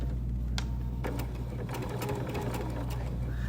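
A sewing machine stitches a seam on a folding wallet, a steady close-up motor whir with rapid needle clatter running through, and some faint speech underneath.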